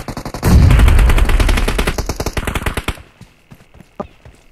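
Loud automatic gunfire in a video game rattles in one long rapid burst, then thins into scattered single shots and quieter distant fire.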